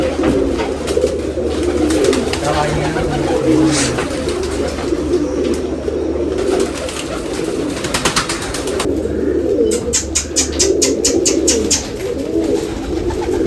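Pigeons cooing in low, repeated throaty calls at a pigeon festival in Nashik, close by, pecking at scattered grain, with flapping wings and scattered clicks and taps around them.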